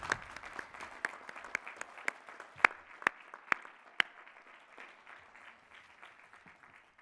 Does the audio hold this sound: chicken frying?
no